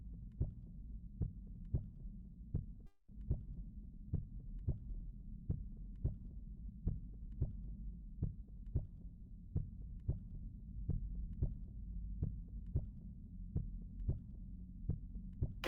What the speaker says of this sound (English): Am I hearing anything outside of my heartbeat?